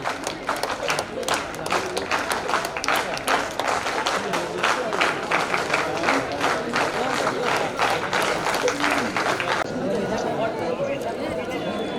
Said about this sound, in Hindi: अपनी तालियों से सम्मानित कर सकते हैं